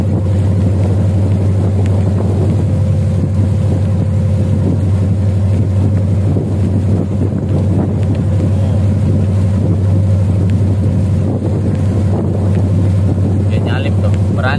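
A motorized jukung boat engine drones loudly and steadily while overtaking a pontoon in a narrow river channel, with a constant low hum and wind buffeting throughout.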